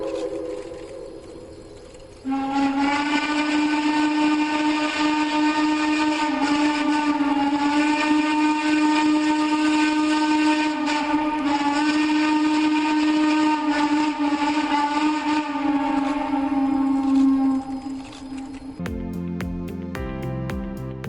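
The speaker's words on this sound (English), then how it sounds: "Casrail Fan Weekend Parade of Steam Locomotives." Steam locomotive whistles at a 2011 Casrail fan weekend parade of steam locomotives: a loud, sustained harmonic whistle blast holding for about fifteen seconds, followed by a shorter, choppier burst of sound at the end.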